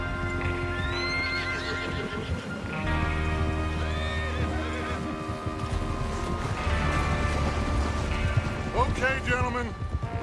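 Horses in the Western game Red Dead Redemption 2 whinny and neigh several times over clip-clopping hooves, alongside a background of in-game sound and music.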